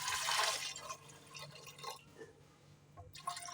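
Water poured into a pressure cooker holding chana peas, a bright splashing pour loudest at the start, then trickling and dripping more faintly, with no talk.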